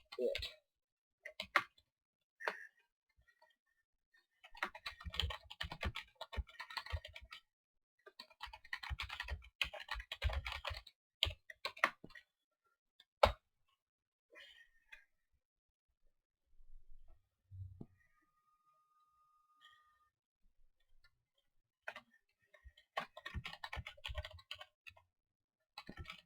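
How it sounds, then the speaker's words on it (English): Bursts of fast typing on a computer keyboard while writing in Microsoft Word, quiet close clicks in runs separated by pauses, with a few isolated louder taps. "My fingers are moving faster than the keyboard is registering"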